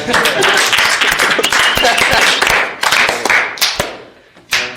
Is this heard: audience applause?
yes